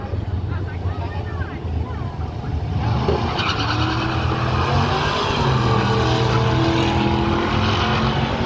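Drag racing cars at a car show, including a white Camaro, spin their tires without traction, a loud growing engine roar and tire screech building over crowd noise with people talking nearby.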